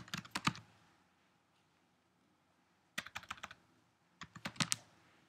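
Typing on a Mac keyboard to name a new folder, three short close bursts of rapid key clicks separated by quiet pauses.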